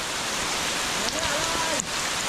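Steady rain falls hard and close beside a tidal creek during crab catching, an even hiss with brief faint sounds standing out over it.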